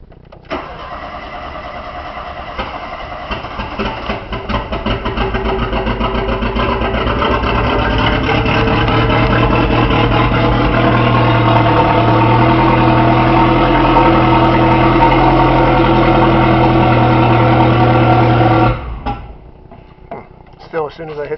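A 931 car engine, a vehicle that dies when throttle is applied, running steadily at idle close by with a rough, uneven low rumble for about eighteen seconds before cutting out, leaving faint handling noise.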